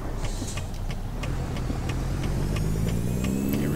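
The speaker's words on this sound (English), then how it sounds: "Wait for these trucks to get on by" Heavy trucks passing on a road in American Truck Simulator, a steady loud engine rumble with rising drone as they go by, continuous and close with no talk.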